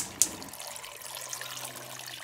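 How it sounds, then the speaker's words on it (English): Water running from a tap into a pot of raw potatoes on the stove, a short soft splashing trickle that starts with a brief clink, then fades to a faint steady flow. "We're gonna add some water."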